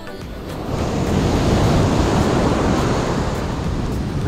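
Sea waves roll onto a beach at Mazunte, Mexico, a loud, broad, continuous wash of surf swelling after the first second and holding steady, with some wind buffeting and no voices.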